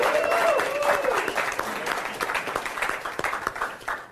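Audience clapping welcomes a former Navy SEAL speaker onto a stage, a loud burst of applause that gradually thins into scattered individual claps over a few seconds, with a brief voice at the start.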